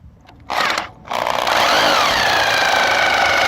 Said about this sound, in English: I'm just going to try and start it and see what happens